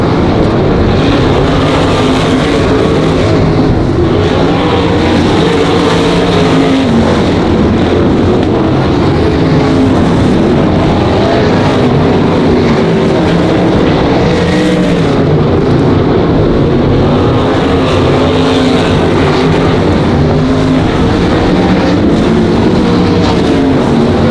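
Sprint cars race at Monarch Motor Speedway, a continuous loud, droning engine roar with rising and falling passes that fills the whole stretch, with no talking.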